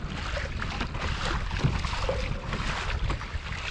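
A fishing kayak pushing fast into a headwind offshore near a lighthouse and rocks, with steady broadband wind roar buffeting the microphone and water rushing past close by, no talking.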